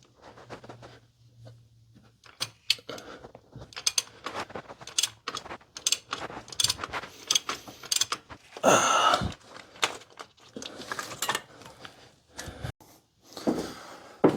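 Socket ratchet working an oil pressure sensor loose on a 1993 Chevy Blazer, heard as scattered close clicks and metallic scrapes with irregular rhythm and quiet gaps, fairly faint and without talk.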